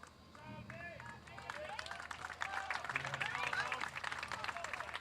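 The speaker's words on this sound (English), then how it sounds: "As Rumley gets the applause from the home fans." Home fans at a high school baseball playoff game applaud the departing pitcher, a steady wash of crowd clapping and cheering that builds slightly, with a commentator talking over it.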